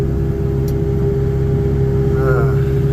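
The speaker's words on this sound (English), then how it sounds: "you wouldn't have to hear the wind, you just get to hear the engine working" The engine of a Takeuchi TB240 compact excavator hums steadily from inside the cab while clearing pond brush. The drone is loud, close and even, with a faint whine rising briefly near the end.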